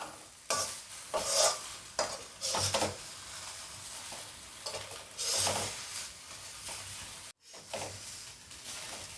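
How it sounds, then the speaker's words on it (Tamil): Steamed idli are tossed and stirred with chili powder in a hot pan, giving repeated scraping and stirring strokes over a soft, continuous sizzle, with a short pause near the end and no voices. "இப்போ நம்ம இட்லியை சேர்த்துப்போம் இட்லி ஃபுல்லாக பொடி படுற மாதிரி நம்ம பரட்டி விட்டுப்போம்"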